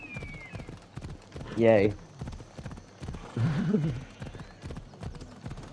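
Horse hooves clip-clop in Assassin's Creed Odyssey as a character mounts and rides, with a brief neigh and a voice talking over the steady galloping.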